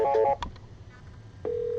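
Telephone keypad tones on a small-business VoIP phone system: a couple of short beeps of a dual tone, a brief click, then after a pause a steady held tone begins and continues to the end.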